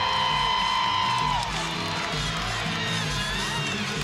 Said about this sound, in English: The crowd went wild right before.